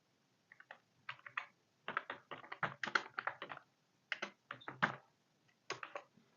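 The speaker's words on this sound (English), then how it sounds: "You can type your query here" Crisp keystrokes on a computer keyboard as a SQL query is typed, coming in quick irregular bursts with brief pauses between words. The clicks are close and clear, with no voices.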